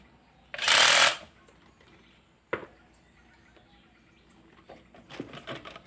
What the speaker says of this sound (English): cordless drill with minimal impact to tighten the